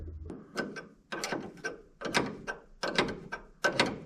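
Ratchet tightening a bolt on the hideaway headlight of a Plymouth Fury, a close series of five or six quick clicking bursts in an even back-and-forth rhythm, with no talk.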